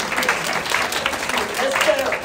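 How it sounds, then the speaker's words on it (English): Audience applause for a speaker at a conference side-event, a short burst of steady clapping from a room of people, fairly loud and close, with voices mixed in. "I would like to applaud her"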